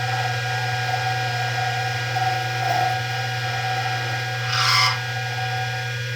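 A TRAK TRL 1440EX lathe runs with a steady machine hum and faint tonal whine, and a short, brighter rasping burst of the cut comes through near the end. No one speaks.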